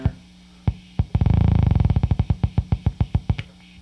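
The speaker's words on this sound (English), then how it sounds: "You can hear there's a little ticking going on there." A buzzy square-wave tone from a Moog low-pass filter with a repeating tick, a rapid burst of clicks that gradually slows into spaced, evenly timed ticks.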